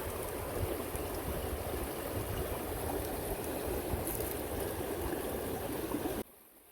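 Water rushes steadily through a gold prospecting machine running North Carolina material, a loud, continuous flowing wash that cuts off abruptly near the end, with no talking.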